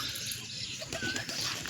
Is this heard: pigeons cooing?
yes